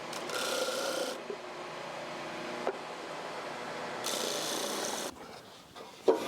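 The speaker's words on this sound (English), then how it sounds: "And maybe a little bit more sanding to take down the fingers." Steady abrasive rasping of sandpaper on wooden finger joints, in alternating bursts with brief pauses, close and moderately loud, no voices.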